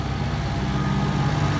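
Massey Ferguson 6715S farm tractor idling, a continuous low, throbbing engine drone heard fairly close and steady throughout.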